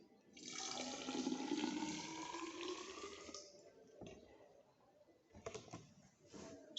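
Water is poured into a measuring cylinder toward the 250 mark during a physics practical, a soft gurgling stream lasting about three seconds, followed by faint drips and small knocks, quiet and close.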